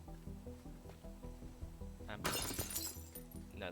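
Glass shatters in the physics sandbox game Teardown, a bright burst of breaking and tinkling shards that stands out over a steady mechanical loop.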